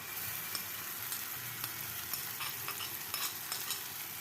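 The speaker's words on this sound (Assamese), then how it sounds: "10 মিনিটমান ফ্ৰাই কৰিব লাগিব।" Rice frying with chili sauce and tomato sauce on low flame for street-style fried rice, a soft steady sizzle with faint stirring clicks, quiet and close, no voices.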